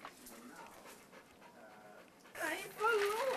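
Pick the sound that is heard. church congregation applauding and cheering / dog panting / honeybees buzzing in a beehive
dog panting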